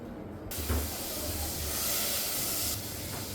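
Garlic cloves frying in butter hiss loudly and steadily after a sudden onset, a close bright sizzle that swells and holds, without talk.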